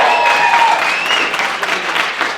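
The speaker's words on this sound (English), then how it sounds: "give them one round of applause" A crowd applauding the dinner staff at a speech event, loud, dense clapping that carries on throughout with no pause.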